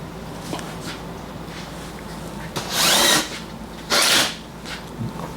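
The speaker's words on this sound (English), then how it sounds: "I want all you guys to put a couple of screws here." A power drill drives screws into drywall, two short whirring bursts about a second apart over a quiet room background.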